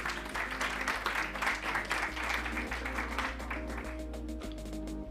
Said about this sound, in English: So huge round of applause, guys.